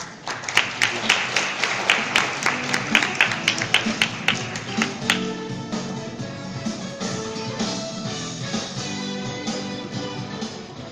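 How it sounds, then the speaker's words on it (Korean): A conference audience at a 2017 gaming-on-AWS session claps to welcome the presenter, with loud, rhythmic, closely spaced claps for about five seconds before fading into a swelling backing music track. "모두 큰 박수로 맞이해 주시기 바랍니다"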